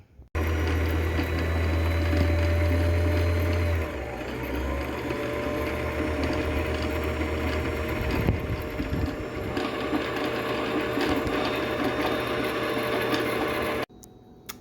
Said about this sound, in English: so I can just go over with the sewing machine neatly